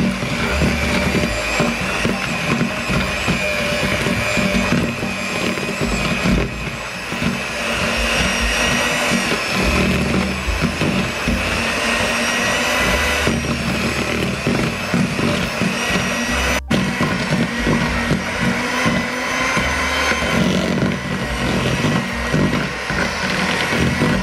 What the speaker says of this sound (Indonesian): Ini saya masukkan gula halus, saya mixer.